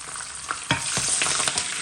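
Curry leaves and cardamom tempering in hot oil for a Jaffna-style mutton curry: a steady, close sizzle with a few sharp scraping stirs, no voices.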